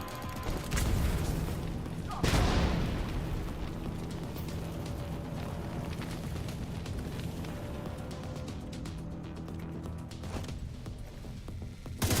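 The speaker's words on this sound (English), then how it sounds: "Grenade out!" A grenade explodes in a video game with a loud, deep boom, preceded by a brief impact and followed by a long rumbling, crackling decay.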